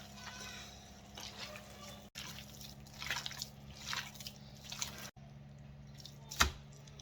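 Wet squishing and dripping as a hand works a meatloaf mix of ground meat with water and milk, soft and close with a few sharper squelches.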